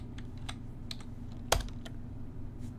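C# code being typed on a computer keyboard: light, irregular key clicks scattered across a few seconds, with one sharper, louder keystroke in the middle, close up and without any talk.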